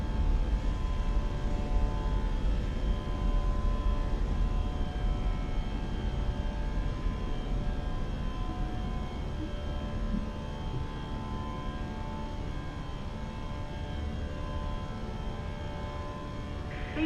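Steady droning engine hum and tonal whine of a British Airways A319 airliner climbing after takeoff in a flight simulator game, continuous and even throughout, with no voices over it.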